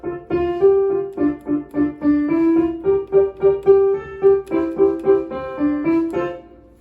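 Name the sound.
piano playing a song's melody and rhythm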